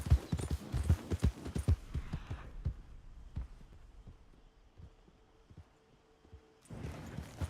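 Horse hooves clip-clop at a trot in a Western video game, a steady rhythmic beat most prominent in the opening seconds, then softer and sparser under a low hum before picking up again near the end.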